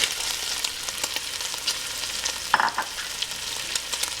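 Bacon and onions frying in a pan for Dublin coddle, a steady close crackling sizzle with a brief utensil scrape partway through.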